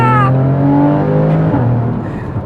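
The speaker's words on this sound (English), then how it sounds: "Shall we listen to the sports exhaust?" A Porsche Cayman 981 with a sports exhaust revs hard from inside the cabin, a loud, steady engine drone with rising and falling pitch and no talking over it.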